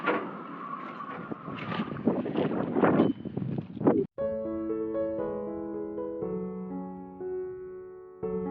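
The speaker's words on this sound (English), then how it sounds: "Oh, wind's still a bit gusty out there." Gusty wind buffets the microphone outdoors on a boat moored at Picton, a rough roaring wash for about four seconds before the scene cuts to steady tonal sounds.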